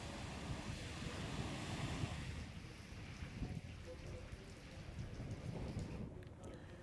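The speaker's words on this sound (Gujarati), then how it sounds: "ચાર દિવસ બાદ પણ ધીમી ગતિએ વરસાદ જારી છે" Light, steady rain falls in Dwarka, a continuous soft wash of drops with a hint of wind, fairly even throughout with no voices.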